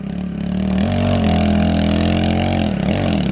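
A pit bike's small engine revs hard and bogs, its loud buzzing drone climbing and dropping in pitch through a few seconds of throttle.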